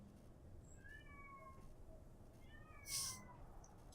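A cat gives several meows in a row, each a short wavering cry, close and clear over a quiet room hum, followed by a brief burst of noise near the end.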